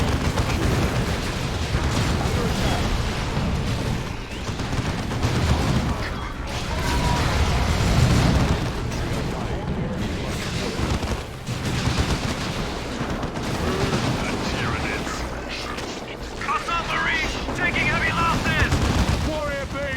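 Sustained gunfire and explosions rage in the real-time strategy game Dawn of War II, a dense, loud battle of rapid shots and booming blasts continuing throughout, with voices speaking over the combat.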